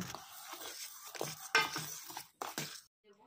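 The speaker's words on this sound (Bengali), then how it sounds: "এবার সুজি আর দুধটাকে দিয়ে আবারও ভালো করে ফেটিয়ে নেব" Semolina and milk whisked together in a bowl for a palm fruit cake batter, giving close scraping and clinking strokes in uneven bursts, with a short pause before a final flurry and then quiet.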